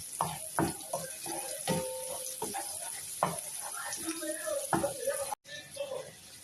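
Garlic and chicken sautéing in a pan for bihon, a steady sizzle and scraping of stirring running throughout at close range, with a brief cut near the end.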